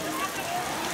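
Waterfall seen from a hill fort in the rainy season, a continuous broad rushing roar of falling water, steady and enveloping for a moment.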